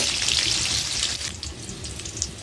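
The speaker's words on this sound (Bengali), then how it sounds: "আলুটাকে লাল লাল করে ভেজে নেব" Lightly salted potato pieces fry in hot oil for mutton kosha, making a close, continuous crackling sizzle that stays fairly loud throughout and eases slightly partway through.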